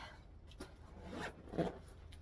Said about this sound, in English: I just want to zip it up.